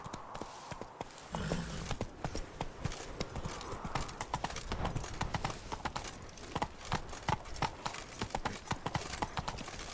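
Roach the horse galloping in The Witcher 3, a steady, loud clip-clop of hooves running throughout, with a rider's brief shouts near the start.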